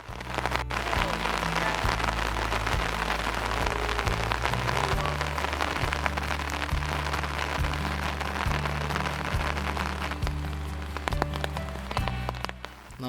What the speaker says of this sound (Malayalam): ഞാൻ ഈ വീഡിയോ ഒക്കെ ചെല്ലുന്ന നേരത്ത് നല്ല മഴയായിരുന്നു.